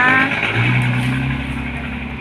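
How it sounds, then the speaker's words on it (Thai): A tractor engine runs nearby on a farm, giving a steady low rumble with a brief rise in pitch, fairly close and alone, with no speech. "เดี๋ยวเราเรากำลังเอารถไถนะคะ เดี๋ยวให้คุณตารถไถมาปรับให้นะคะ"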